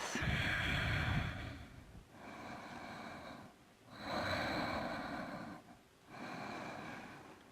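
Slow exhaled breaths during a yoga cardio flow, a few long soft airy rushes through the nose or mouth, close to the microphone and quiet, with gaps between each breath.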